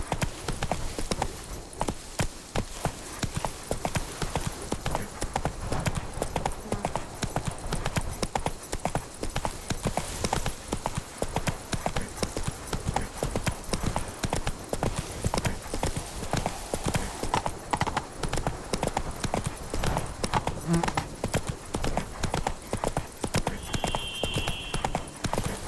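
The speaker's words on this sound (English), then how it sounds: "Even a horse drops if you ride it with a constant gallop." Horse hooves galloping steadily in The Witcher 3 video game, a continuous rapid clip-clop rhythm running loud and close for the whole stretch, with occasional faint game sounds mixed in.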